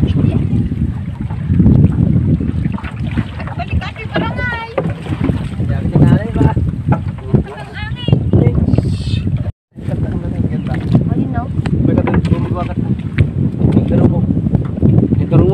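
Strong wind buffets the microphone aboard a boat, a loud continuous rushing roar with gusty fluctuations and a brief dropout midway, while people talk underneath.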